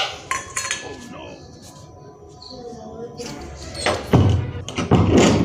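Dishes and a plate are brought and handled at home, with clinks and clatters of cutlery and crockery, first scattered and then busier and louder near the end, while voices talk around them.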